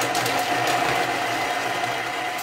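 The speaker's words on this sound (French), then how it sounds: "On va mixer 5 secondes vitesse 5." A kitchen mixer blends garlic for a chestnut stuffing for poultry, giving a steady, loud motorized whir that runs unbroken for a couple of seconds with no talk.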